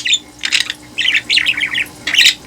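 Caged pet birds chirp and squawk in short bursts of high, bright calls, several birds calling close by with brief pauses between flurries.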